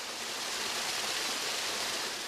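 An artificial waterfall at a hospital pours out a steady, even rush of falling water, constant and fairly soft, with no voices.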